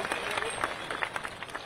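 A crowd at a devotional gathering gives loud applause for an honoured guest, a dense, continuous patter of many hands clapping at once, kept up evenly through the short stretch.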